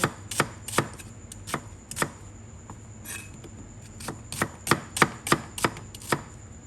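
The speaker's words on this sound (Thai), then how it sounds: "เตรียมหั่นผักไว้ค่ะ หอมใหญ่" A knife chops an onion steadily on a cutting board, with sharp, close thuds in an uneven rhythm that speeds up toward the end.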